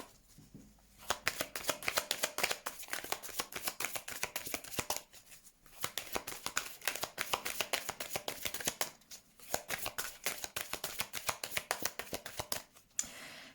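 Tarot cards are shuffled and cut close by in dense, rhythmic riffling bursts, separated by a few brief pauses, with no voices.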